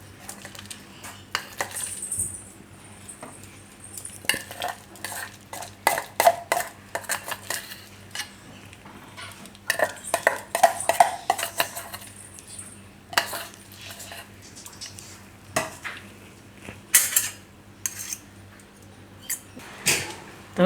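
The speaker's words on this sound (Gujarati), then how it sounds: "અને આ આપણે જે સાબુદાણા છે એ આપણે આમાં મિક્સ કરી દેવું." A metal utensil stirs soaked sabudana (sago pearls) with curry leaves in a pot, making irregular bursts of clinks and scrapes against the pot with short quiet gaps between strokes.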